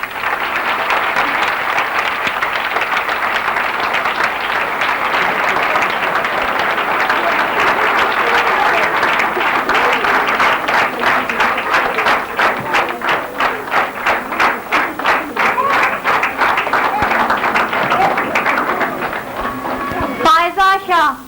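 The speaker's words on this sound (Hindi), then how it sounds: "उसको बहुत सारी तालियों से आप उसकी हौसला अफजाई कीजिएगा" Schoolchildren applaud a named student at a school gathering, with sustained crowd clapping that turns into more rhythmic, separate claps toward the end, followed by a voice.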